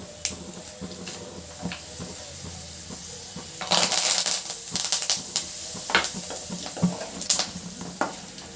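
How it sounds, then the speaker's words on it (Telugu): Spices tempering in hot oil over a medium flame for a tomato pickle, crackling and sizzling unevenly with sharp pops and spits, busiest midway, close and fairly loud with no talk. "మీడియం ఫ్లేమ్లోనే చక్కగా పెట్టుకొని పోపు చక్కగా వేగనివ్వండి"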